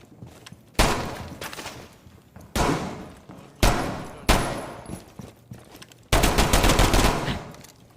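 Pistol gunfire in a video game: five loud, sharp bursts of shots spaced irregularly, the last a longer sustained volley of rapid firing, close and dominant with no talking.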